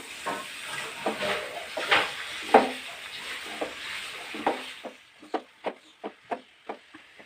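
Cooked cabbage and chana dal are stirred in a hot pan with a steady scraping sizzle, then a spoon gives a series of crisp, regular taps that end in near quiet.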